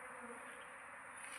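A swarm of bees hums steadily in a tree while being caught, a faint, continuous buzzing drone with no pauses and no voices.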